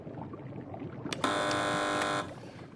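A game show buzzer is pressed once, giving a sudden loud, steady electronic drone of about one second that cuts off sharply over quiet room noise.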